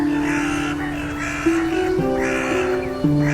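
A flock of crows caws in repeated harsh bursts over sustained musical tones that shift pitch a few times.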